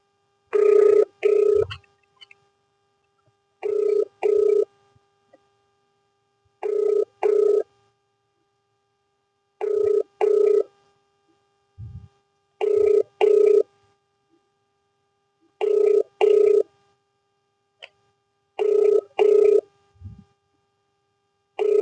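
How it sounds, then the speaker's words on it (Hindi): A phone call to an SDO, a local government official, rings out as a ringback tone: paired ring pulses repeat about every three seconds, seven cycles in all, steady and clear with no voices over them. "हम डायरेक्ट एसडीओ साहब को फोन कर रहे हैं।"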